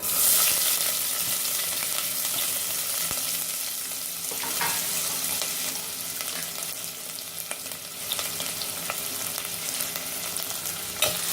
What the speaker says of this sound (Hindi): कांदे को लाइट ब्राउन करने तक भूनेंगे